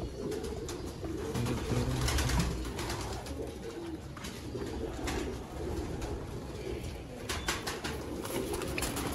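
Young pure chuha pigeons cooing softly at close range, low repeated coos over a faint background with occasional light flutters, no voices.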